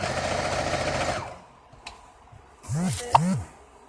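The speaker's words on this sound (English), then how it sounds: "You have to sew it all the way down and all the way around." A sewing machine stitches a pillowcase in a steady mechanical whir that stops after about a second. Then a person speaks briefly nearby.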